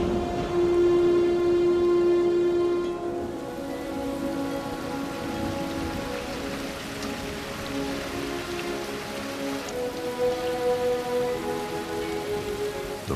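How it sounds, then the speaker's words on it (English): Steady rain from a thunderstorm pours down in a continuous wash of noise, with a low tonal hum running underneath throughout. "The rains have returned."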